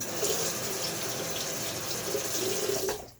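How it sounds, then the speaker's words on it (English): Water runs steadily from a tap for a few seconds while shaving soap is loaded into a lather, a close, even splashing stream that cuts off at the end. "I'm not going to be afraid to put water in it"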